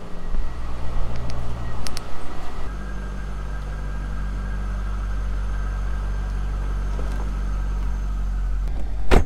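A C5 Corvette drives along with a deep, steady low engine rumble and road noise, close and continuous, with a few brief clicks near the start.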